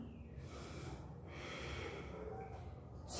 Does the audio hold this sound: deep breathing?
yes